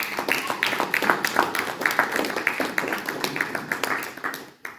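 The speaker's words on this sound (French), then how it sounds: "Est-ce qu'on peut applaudir le Seigneur?" A church congregation claps together in sustained applause for the Lord, a dense crackle of many hands with irregular louder bursts, steady throughout and fading slightly at the very end.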